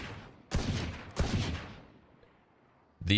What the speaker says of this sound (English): So you can actually shoot through that wall, right?